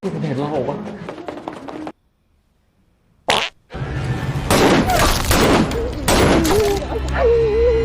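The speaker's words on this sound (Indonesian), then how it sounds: "spontan melepaskan tembakan" A sudden burst of sharp gunfire cracks after a moment of silence, loud and close, amid dramatic noise and voices talking before and after.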